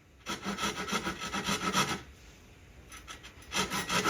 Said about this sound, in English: I'll use a little saw to saw down.